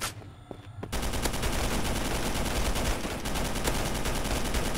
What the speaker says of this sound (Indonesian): ditembak dari samping juga ternyata